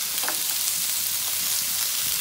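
Cut, cleaned green beans fry in a hot pan with a steady, close sizzle that stays even throughout.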